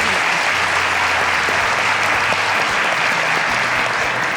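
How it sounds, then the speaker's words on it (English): Steady, dense clapping from a studio audience on a cooking show fills the space, loud and even, with a faint low hum underneath. "A round of applause for her."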